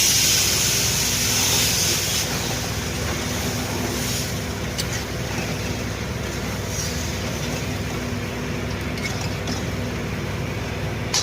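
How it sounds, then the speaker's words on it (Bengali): Water poured into frying semolina in a hot pan while making upma, setting off a loud, continuous rushing hiss and sputter of steam that stays strong and steady throughout, close and without talk. "আর এই যে জলটা খুব সাবধানে দিতে হবে"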